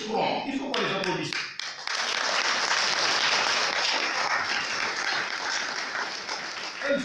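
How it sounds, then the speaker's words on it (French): Parish feast-day gathering applauds two sisters: after a brief voice at the start, a full room of dense clapping swells and continues steadily, loud and sustained. "Il faut qu'on les applaudisse."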